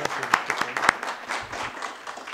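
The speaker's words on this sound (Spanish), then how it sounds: "pido un aplauso para él," Audience applause for a speaker at a Spanish-language talk on democracy, a few sharp claps rising over a steady patter of clapping from a modest crowd, fairly close and moderately loud.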